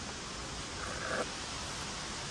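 Steady, gusty wind rushes outdoors beside a beehive, a broad, even hiss that swells slightly near the middle.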